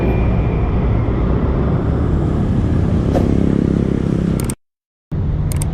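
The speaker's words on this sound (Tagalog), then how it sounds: "Terminal ang tricycle." Motorized tricycles idle and run at a tricycle terminal in Pasig City, a loud, steady engine drone close by with a brief cut to silence near the end.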